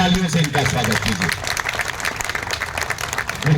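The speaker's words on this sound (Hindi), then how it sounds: "एक बार जोरदार तालियों से इनका स्वागत कीजिए" Crowd at a Congress political rally in Gurgaon applauding to welcome a politician, dense continuous clapping with a voice talking over it at the start and end.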